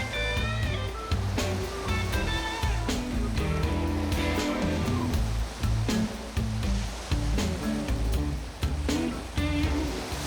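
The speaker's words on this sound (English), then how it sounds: "I have never ever seen such waves breaking over the rocks in my life." Heavy ocean surf roars continuously as large waves crash over rocks, a loud, dense wash of water with repeated surges.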